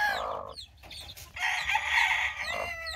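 A rooster over 11 years old crows loudly nearby, its drawn-out call broken by a few short clucks, with no voices.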